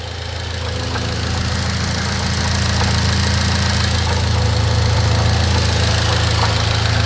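A Mitsubishi Lancer Evo X Ralliart engine running at idle during a base map tune, a steady close low rumble and hum that rises slightly in level, with no talk.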